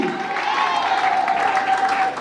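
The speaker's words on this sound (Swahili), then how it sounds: "Yes, makofi kidogo, makofi" A church congregation at a launch celebration claps in a loud, continuous round of applause, with a tonal sound held through the middle and faint voices underneath.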